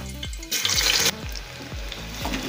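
Two large onions, finely chopped, going into hot oil for a mutton korma, a sudden loud hiss bursting out and then settling into a steady sizzle with a few knocking strokes, no voices.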